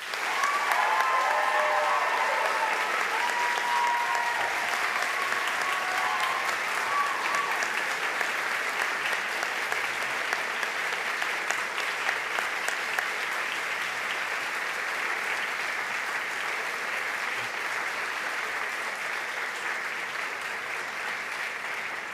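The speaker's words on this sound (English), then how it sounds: "let them hear your heartfelt thanks with a huge round of applause" Large audience at a university summer graduation ceremony gives a long, sustained round of applause, a dense even wash of clapping that continues steadily for over twenty seconds, with faint voices briefly audible early on.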